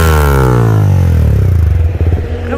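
Yamaha MT-15 motorcycle with a loud aftermarket exhaust, firing up close by with a deep descending rumble that settles into a throbbing, pulsing idle.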